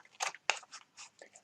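Scissors cut through paper while a compass rosette is being made, several sharp crunching snips spaced irregularly, close and fairly quiet with short silences between.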